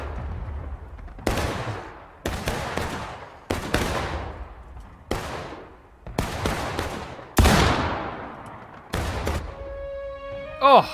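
Rifle volleys and cannon fire ring out on a Civil War battlefield in War of Rights, sharp loud reports spaced a second or two apart with long echoing decays, a few shots layered close together, and voices talking under them.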